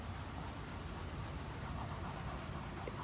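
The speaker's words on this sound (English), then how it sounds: "because I'm using oil pastel, I'm gonna take my finger and rub it out" A fingertip rubs oil pastel into paper for a junk mail leaf collage, making a steady, soft, dry scuffing that carries on without a break at close range and stays fairly quiet, with no voices.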